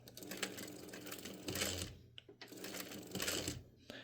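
A sewing machine stitches a bag seam at one-eighth inch with back stitching at each end, a close rapid mechanical whirr in two bursts separated by a short pause, faint overall.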